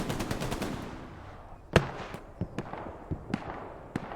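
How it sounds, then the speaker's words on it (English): Rapid machine gun bursts in an 18-versus-18 multiplayer war game, followed by a sharp explosion and scattered distant shots and booms, fairly quiet and without talk. "Another rocket miss, and another rocket miss, as is becoming tradition."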